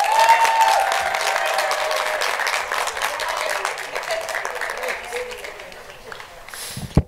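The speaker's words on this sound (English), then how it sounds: "Please give a round of applause for Timothy Batarse." A graduation ceremony crowd applauding, dense clapping that gradually thins and fades, with faint voices underneath and a sharp knock at the end.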